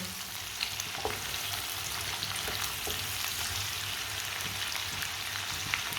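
Spices roast in a pan for Punjabi-style winter pickle, a steady close sizzle and crackle with faint occasional spoon taps throughout, no talking.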